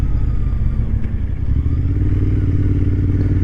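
A cafe racer motorcycle pulls away in first gear, its engine a loud, close, throbbing low rumble that climbs steadily in pitch as it accelerates, with some rattling over the top.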